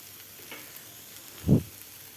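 Fenugreek leaves and dal fry gently in a pan, a faint steady sizzle broken by one brief, fuller scrape of stirring midway. Quiet overall, with no voices.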